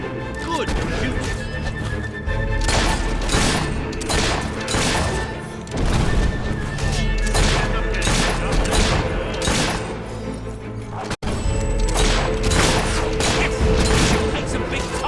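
Enemy gunfire during a battle in the game Fable III: repeated loud shots and booming blasts in rapid bursts, continuing through a busy, dense mix of other game sounds.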